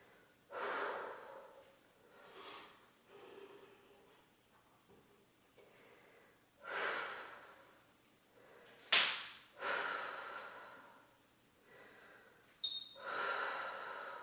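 Heavy breathing during a weighted total-body strength workout comes as a series of separate close exhales and sharp snorting breaths, spaced a couple of seconds apart, with one quick clatter near the end.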